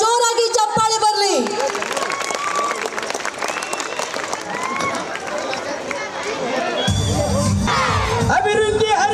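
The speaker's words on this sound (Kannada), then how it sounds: "ಜೋರಾಗಿ ಚಪ್ಪಾಳೆ ಬರಲಿ" A school crowd at a 125th-anniversary celebration claps to welcome a minister, broad sustained applause with cheers and babble under a loud voice over a PA, continuing steadily for several seconds.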